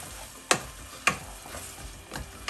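Pork and vegetables tossed in a wok, with a low steady sizzle broken by two sharp clinks of a utensil striking the metal pan and softer scraping as everything is mixed.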